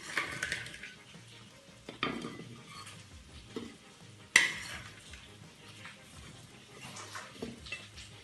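Potato wedges and fried chicken strips are stirred in a pan, with scraping and clanking of a utensil against metal over a soft sizzle, close and fairly busy, with a few sharper knocks.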